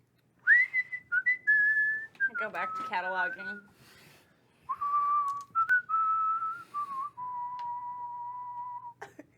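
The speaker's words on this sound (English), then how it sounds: "My boss whistles it all the time." A tune is whistled in long, clear, sustained notes that glide between pitches, broken by a short spoken line partway through, then resuming with held tones.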